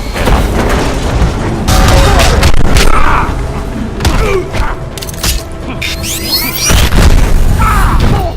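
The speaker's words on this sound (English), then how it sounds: "Twin tasers, knee to your chops, bomb to your face, and now Grand Theft Run Over." Batman's Grand Theft Run Over super move in the fighting game Injustice, a loud sequence of heavy booming crashes, thuds and impacts layered with game voices and a commentator talking over it.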